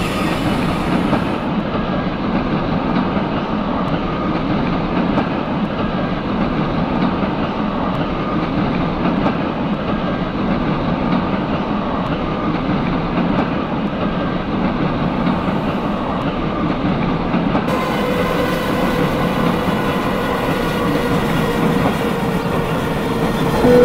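Simulated CPTM series 1100 electric commuter train running between Paranapiacaba and Santo André in OpenBVE, a constant loud rumble of wheels and motor with steady track noise and no speech.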